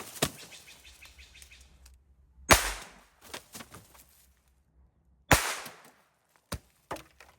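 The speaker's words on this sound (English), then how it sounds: "So let's go ahead and shoot at these bottles and let's see what happens." A Beretta Bobcat .22LR pistol fires at bottles outdoors, giving several sharp, close cracks spaced a few seconds apart, with fainter clatter and softer knocks between the shots.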